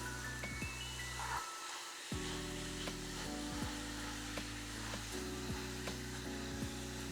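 Chili ingredients browning in a pan on the stove, giving a steady sizzling, frying hiss with a low hum and brief scraping stirs, close and continuous apart from a short quiet gap.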